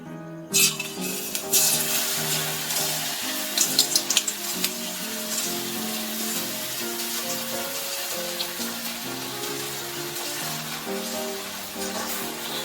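Lentil batter for crispy masoor dal fritters fries in very hot oil with a steady, continuous sizzle. Some early pops give way to the constant crackle, which runs under background music.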